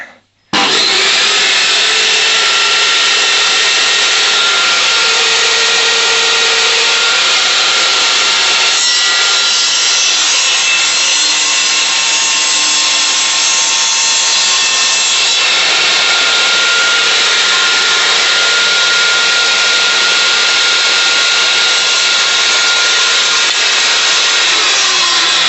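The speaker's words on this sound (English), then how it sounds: "Let's have a little test run." A Lidl Parkside portable table saw rips through wood with a loud, steady, high-pitched motor whine and blade scream, running continuously close up for the whole stretch with no talk.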